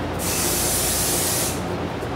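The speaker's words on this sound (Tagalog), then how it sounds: "makeup setting spray yan" Makeup setting spray from a bottle is misted in a continuous hissing burst lasting over a second, close to the microphone over a steady background hiss.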